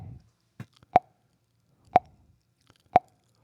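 A metronome ticks three evenly spaced sharp clicks about a second apart, close and clear against near silence, with a brief breath or voice fragment at the start.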